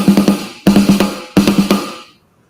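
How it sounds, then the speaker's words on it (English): Snare drum of a Power Station drum kit played in three quick bursts of rapid strokes, punchy and close, each burst trailing off with a short ring before silence. "The snare sounds like this,"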